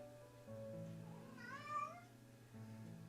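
A kitten from a stray cat's litter gives one rising-and-falling meow midway, close and clear, over a steady low background hum.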